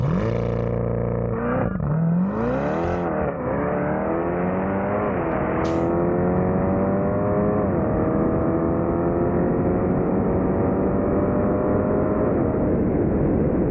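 A 2020 C8 Corvette Stingray launches hard in manual mode, its engine roaring loud and close as revs climb through several quick upshifts, each gear a rising whine that steadies into a sustained high drone.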